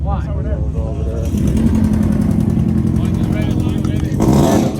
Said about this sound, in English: Starting to turn them engines on, man.